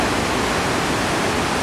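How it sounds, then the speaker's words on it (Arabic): The Darbat waterfalls in Wadi Darbat, Oman, swollen by the rainy season, pour with a loud, dense, continuous roar of rushing water, with no voices. "هذه شلالات ديرباك، هذه يعني الموسم أمطار"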